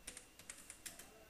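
Fingers type on a computer keyboard during a PHP coding lesson, eight or nine quick, faint key clicks in an uneven patter, close and alone over a low background hiss.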